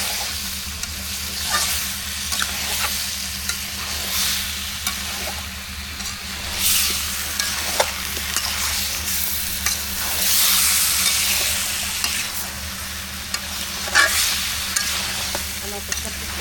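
Meat curry with potatoes sizzling steadily in a pot as a utensil stirs it, a continuous close frying hiss broken by regular scraping strokes, with no talk.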